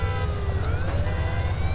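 A police car siren wails in the Mafia 2 video game, its rising and falling tone running steadily through the whole stretch over a constant low rumble of game sound, with no talking.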